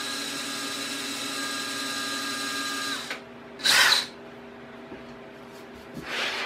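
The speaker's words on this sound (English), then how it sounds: "I've drilled some holes in there" A small electric drill whirs steadily for a few seconds, stops, then gives two short high-pitched bursts as it bores into material.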